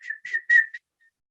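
A person whistles to imitate a car mechanic's knowing whistle, four quick clear notes in a rising-and-falling pattern, close and alone.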